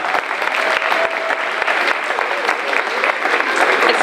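An audience claps through a school Veterans Day assembly in a full, steady round of applause from many hands, loud and close, with a few sharper claps standing out near the front.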